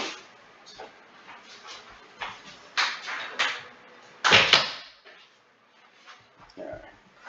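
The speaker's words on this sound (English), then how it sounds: "let me close the door" A door swings shut indoors with a loud thump near the middle, amid shuffling, light knocks and a dog's faint whimpers, all close and fairly quiet.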